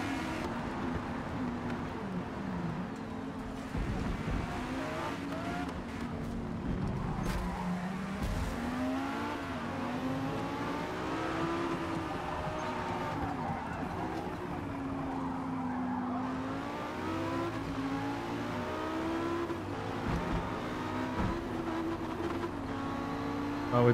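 An Audi IMSA race car in Forza Motorsport, open R class, revs hard near its limiter, the engine note wavering and bouncing up and down in pitch, close and steady with brief tire and track noises.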